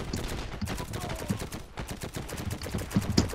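Rapid gunfire crackles through the WWII shooter game Heroes and Generals, dense overlapping bursts of shots at moderate volume throughout.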